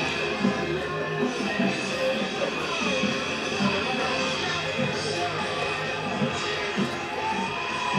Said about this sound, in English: Boy, this crowd making some noise now.